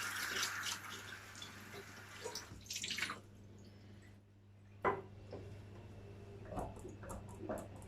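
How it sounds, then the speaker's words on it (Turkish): Water splashes and runs as a soiled container is washed in plenty of foamy suds in a kitchen sink, with a steady wash of flow, a pause, then sharper close drips and sloshes. "Şimdi bunu bol köpüklüce bir yıkayayım, durlayayım."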